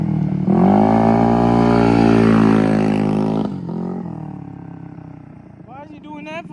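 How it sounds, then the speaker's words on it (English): A motorcycle engine running with a swapped-in engine and undersized jets, revving hard at full throttle, loud and close, then dropping off and sputtering as if cutting out. "Full throttle, there's too much air, and it's gonna shut it off"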